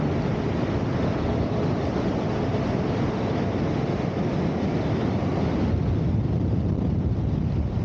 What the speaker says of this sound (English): Wow, this wind.